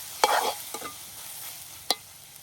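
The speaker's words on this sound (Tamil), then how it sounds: "தக்காளி பழத்தை போட்டு நல்லா வதக்கி" Tomatoes tossed into a pan of sautéed onions, with a brief burst of sizzling as they land, a few stirring scrapes and one sharp utensil knock against the pan.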